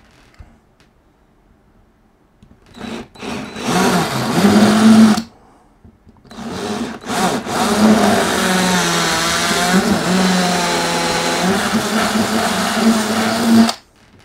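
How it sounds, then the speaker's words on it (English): Electric drill boring and cutting a slot through a wooden model railway baseboard: a loud, whining motor in two bursts, the second long and steady with a grinding, shifting pitch as the bit moves through the wood. "I'm going to start with my drill at one side of it and then move it to the other side and then angle the drill to come through"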